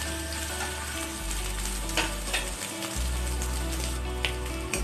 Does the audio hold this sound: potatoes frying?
yes